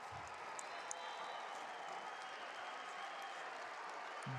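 A crowd at a state wrestling championship semifinal applauds and cheers as a match ends, a broad steady wash of clapping heard from within the arena, with faint announcing under it.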